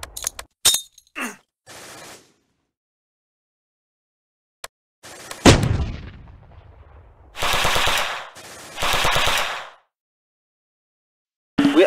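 Heavy gunfire and artillery in the war strategy game Close Combat: sharp shots and a booming blast with a long decaying rumble, followed by two sustained machine-gun bursts, separated by silent gaps.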